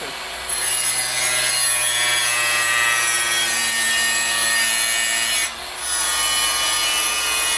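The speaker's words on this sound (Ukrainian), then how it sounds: "як можна зразу зішліфовувати 45-й кут" A power tool with a Distar Soft Edge+ diamond bit grinds a 45-degree edge on a tile, a harsh, steady, high-pitched whine that dips briefly before resuming.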